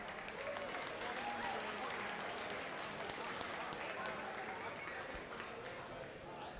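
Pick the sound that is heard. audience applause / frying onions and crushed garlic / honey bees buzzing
audience applause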